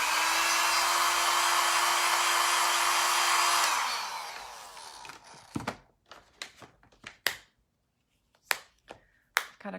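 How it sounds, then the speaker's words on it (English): A hair dryer blows loudly and steadily at close range for about four seconds, then winds down and stops, followed by scattered sharp clicks and taps from makeup cases being closed. "I'm gonna blow dry it so it doesn't go anywhere"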